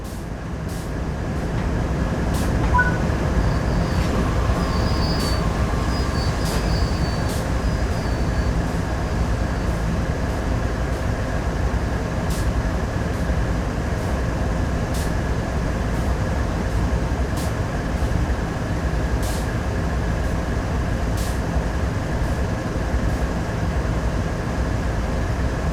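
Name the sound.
train coupling and braking in Train Sim World 3 video game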